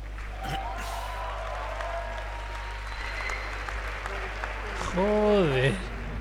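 Audience applause at the Sony E3 2018 conference, a steady wash of clapping from a large crowd that runs throughout, mixed with a voice and a rising tonal sound near the end.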